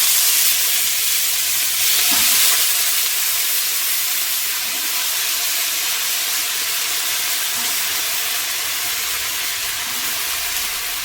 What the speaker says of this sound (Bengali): লাউ শাকের ডাটা ধুয়ে দিয়ে দিচ্ছি।